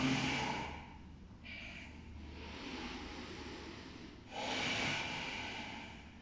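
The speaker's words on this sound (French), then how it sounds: "Respiration longue, profonde." Long, deep breaths during a slow yoga practice, soft airy exhales and inhales at close range with a louder breath near the end, no talking.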